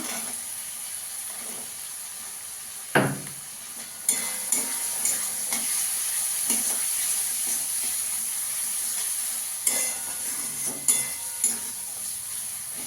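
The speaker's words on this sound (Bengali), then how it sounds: "ভালো করে একটু কষিয়ে নেবো।" Spices with half a spoon of coriander powder, chili powder and green peas being sautéed in a pan for aloo dum, with steady sizzling and several sharp spoon scrapes and stirring knocks against the pan.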